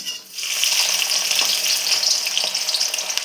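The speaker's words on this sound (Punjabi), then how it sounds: "ਹੋ ਗਿਆ ਤੇਲ ਗਰਮ ਹੁਣ ਆਪਾਂ ਇਹਦੇ ਵਿੱਚ ਕੀ ਪਾਵਾਂਗੇ ਪਿਆਜ਼ ਪਾ ਦਾਂਗੇ ਜੀ" Onions drop into hot oil and burst into a loud, continuous frying sizzle that swells within the first half second and stays strong, close and crackling to the end.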